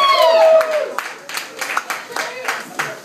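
Audience at a stand-up comedy show in a Seattle club clapping for the wait staff and bartender, a scattered burst of hand claps that thins out over a few seconds while a voice talks over it.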